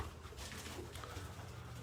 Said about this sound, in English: We're showing you the pigeons.